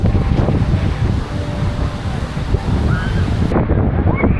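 Sea waves wash in at a beach on Isla Mujeres, Mexico, a loud, steady surf roar with heavy wind buffeting the microphone throughout.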